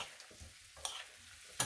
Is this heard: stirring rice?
yes